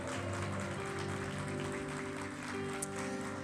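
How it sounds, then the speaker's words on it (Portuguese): A church service audience claps steadily for a few seconds, the applause fairly faint beneath sustained musical tones. "Você pode aplaudir um pouquinho mais forte."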